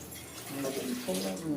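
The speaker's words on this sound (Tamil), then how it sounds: "தோசை பதத்துக்கு கொஞ்சம் தண்ணி ஊற்றிக்கிறோம்" Water poured into fermented curry leaf and ajwain dosa batter, a soft continuous splashing that runs steadily through the clip beneath a speaking voice.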